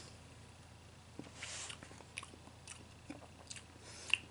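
Someone tasting Starry lemon lime soda up close: faint sipping, soft mouth clicks and small swallowing noises over a quiet background, with no speech.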